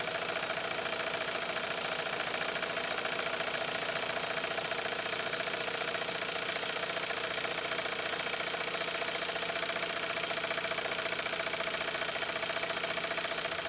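A twin Stuart 5A steam engine runs steadily in a garden at 80 psi, with a continuous mechanical hum and fine rapid chuffing, even and unbroken, at a moderate distance.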